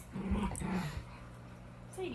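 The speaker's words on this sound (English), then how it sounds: "what are you growling about?" A dog growls and whimpers in low, rumbling bursts during the first second, then goes quieter while other dogs play nearby with a tug toy.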